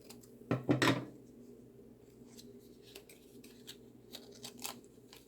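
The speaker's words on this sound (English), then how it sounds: "Now I'm going to use my scissors" Scissors snip sharply through paper a couple of times up front while cutting out a card envelope, followed by softer scattered clicks of blades and paper handling.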